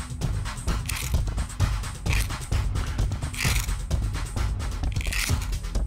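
A Swedish firesteel is struck and scraped hard to throw big sparks, making repeated gritty metallic rasps at close range in a steady, energetic rhythm.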